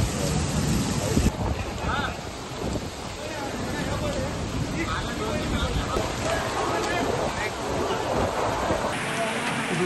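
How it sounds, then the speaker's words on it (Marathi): Heavy unseasonal rain driven by strong stormy wind, a dense continuous loud roar of rainfall and gusts filling the whole stretch without letup. "वादळी वाऱ्यासह हा पाऊस झालाय।"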